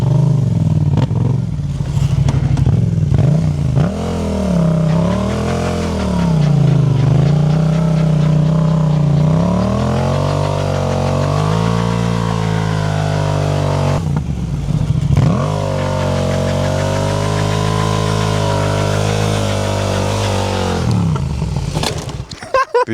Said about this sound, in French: je vais mettre la moto sur l'avant et je vais faire patiner la roue arrière